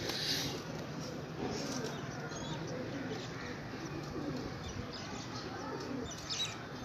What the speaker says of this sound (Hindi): मोती आला कबूतर जी इनका